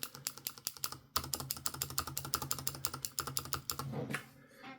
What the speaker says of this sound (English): We'll just click some buttons on one or the other and compare.